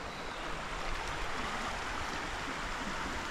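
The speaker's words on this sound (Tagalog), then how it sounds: "Ito nga pala Ifugao River." The Ifugao River flows steadily as a broad, continuous wash of rushing water, even and unbroken throughout with no voices.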